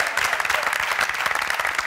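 Audience applause at a Tunisian TV show, a dense steady patter of many hands clapping together, loud and close, filling the whole moment with no break.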